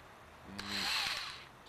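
A variable speed drill spins up briefly while straightening antenna wire clamped between the chuck and a pipe clamp, giving a short rising whir close by.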